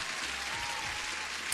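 Applause from a crowd fills the whole short stretch, a steady and even clapping wash at moderate loudness.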